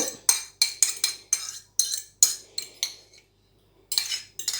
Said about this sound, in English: we're going to mix our sugar and our brown sugar and our butter together first